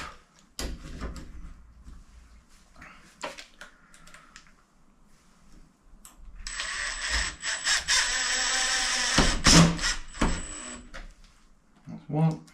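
A power drill drives screws into a door frame in a sustained whirring burst of several seconds, surrounded by scattered knocks and handling clatter, with someone talking intermittently.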